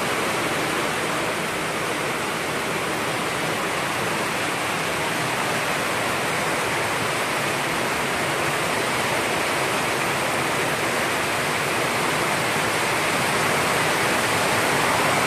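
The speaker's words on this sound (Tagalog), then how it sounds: "Nagdala ng malakas na hangin ang ulan." Heavy rain and strong wind pour in a dense, unbroken roar, loud and steady throughout, with a constant rushing wash.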